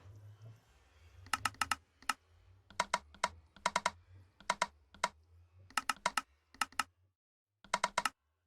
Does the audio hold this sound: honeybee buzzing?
no